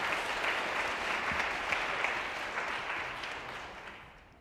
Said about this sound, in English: could we please get another round of applause for Sylvia's amazing speech?